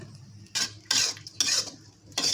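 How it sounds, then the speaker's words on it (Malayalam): Shredded parotta stirred in a pan over high flame, four distinct bursts of scraping and clattering as the spatula sweeps through, separated by short quiet gaps with a faint sizzle beneath. "ഈ പൊടിച്ച് വെച്ച പൊറോട്ട ഹൈ ഫ്ലെയിമിലിട്ടിട്ട് നല്ലപോലെ അങ്ങോട്ട് ഇളക്കുക"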